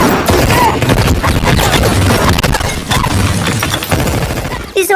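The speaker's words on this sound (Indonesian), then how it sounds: "Samsul dan Nathan malah menembaki Max hingga terjadilah baku tembak." Rapid bursts of gunfire fill a film shootout set on London streets, dense automatic volleys and single shots ringing loud and continuous with brief booms, running under a noisy action soundtrack.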